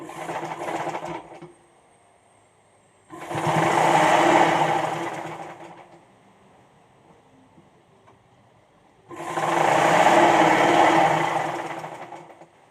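A sewing machine stitches a baby frock hem in two loud, steady runs of several seconds each, separated by quiet pauses, with a brief burst at the start.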